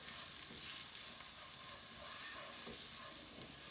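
Curry powder and turmeric sizzling in a pan, a steady, faint hiss of frying spices with light stirring, close and continuous with no voice.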